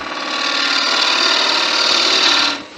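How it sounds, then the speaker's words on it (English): A wood lathe spins while a detail gouge cuts the neck of a wooden Christmas angel, making a loud, continuous whirring scrape up close for over two seconds before it tapers off. "I've got to get into that neck with a detail gouge in there"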